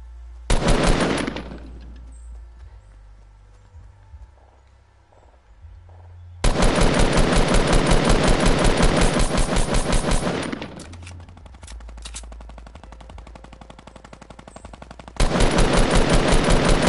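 Bursts of automatic machine gun fire in the video game Fortnite, loud sustained volleys lasting several seconds each with quieter gaps of rattling game noise between them.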